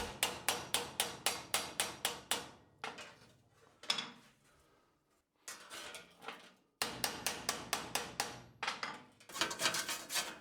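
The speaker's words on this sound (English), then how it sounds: "so give it a panel beating" Large metal cover of a surface grinder being hammered to beat out a dent, with rapid runs of sharp, evenly spaced blows broken by short pauses, close and clear with no talk.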